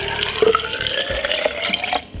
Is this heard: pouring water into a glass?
yes